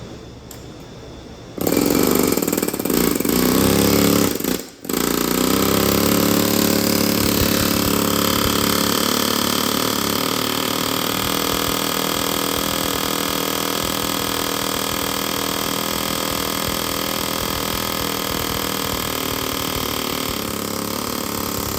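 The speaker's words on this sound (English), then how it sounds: "angle in here with my air hammer and see if I can get onto the bearing and vibrate it off" Pneumatic air hammer working at the driveline center support bearing of a Ford F-250, a loud, steady rapid buzzing rattle that starts after a short quieter lead-in, breaks off briefly, then runs continuously to the end.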